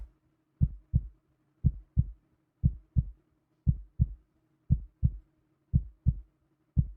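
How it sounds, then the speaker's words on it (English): Heartbeat during an ASMR stream: steady paired lub-dub thumps, deep and close, repeating about once per second with no talking over them. "The heartbeat might be a little loud"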